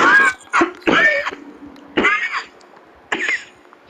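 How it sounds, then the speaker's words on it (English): A series of harsh, raspy coughs in close succession, loud and close, with short pauses between bursts. "that's one hell of a cough"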